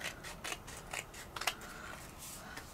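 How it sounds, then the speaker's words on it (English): Scissors cutting around a piece of 12x12 craft paper, a few crisp, quiet snips spaced out with soft paper rustle between them, close by. "I'm going to cut around it."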